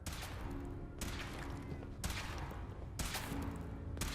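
A minigun in Fallout 4 fires a continuous heavy roar broken into roughly one-second surges, with dense crashing impacts throughout, sounding fairly distant and muffled.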